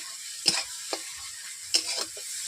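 Ginger-garlic paste frying with onions in a pan, a soft steady sizzle broken by a few sharp spatters and stirring scrapes, close and moderately quiet.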